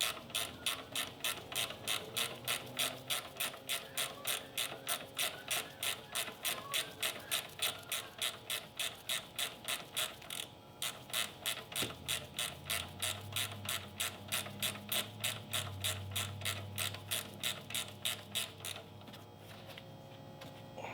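A hand ratchet turns a 19 mm bolt on top of a mount on a 2002-06 Toyota Camry during lower control arm work, a fast even stream of clicks running nearly continuously, close and clear.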